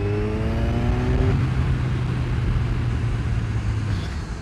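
Kawasaki Z1000 motorcycle accelerating on a road in Singapore, a loud close engine note climbing in pitch through the gears, with one upshift and a continuous roaring drone after it.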